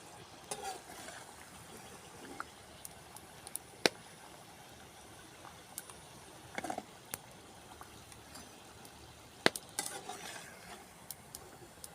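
Sesame vadai (ellu vadai) frying in hot oil in a village kitchen, a steady soft sizzle with occasional sharp metal clinks and stirring scrapes close by, no talking.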